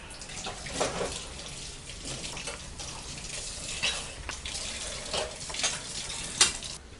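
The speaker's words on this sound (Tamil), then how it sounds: "அதனால் நான் கொஞ்சமாக ஊற்றிட்டு ஃப்ரை பண்ணிகிட்ருக்கேன்" Mutton keema balls fry in a shallow layer of oil, giving a quiet, uneven bubbling sizzle with scattered soft pops and spatters, heard close and with no talk.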